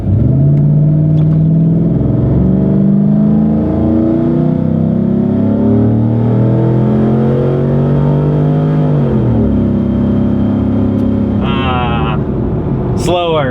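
A 2004 Chevy Silverado pickup with an upgraded cam accelerates hard from 0 to 60 mph on a snowy dirt road, its engine loud and close, pitch climbing through gear shifts before a sharp rise near the end.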